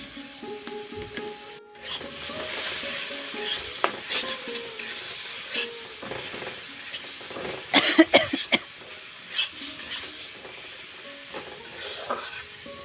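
Water poured onto a spice masala in a hot pan sets off loud, bursting sizzles, then steady frying that is stirred with scraping utensil and pan clatter, with a cough partway through.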